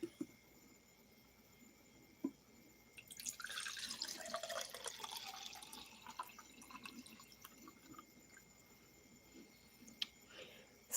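Tea poured into a cup, a steady trickling splash rising over several seconds in a quiet room, with a few small clinks before and after.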